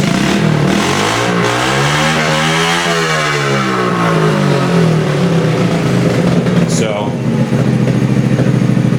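A 1994 Honda Z50R mini bike engine runs loud and steady at idle, its pitch rising and falling with light revs before settling back, and a brief voice breaks in near the end.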